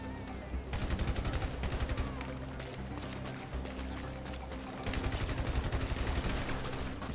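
Rapid machine gun bursts in GTA V online deathmatch inside a factory, two long rattling volleys of automatic fire separated by a short pause, loud and close.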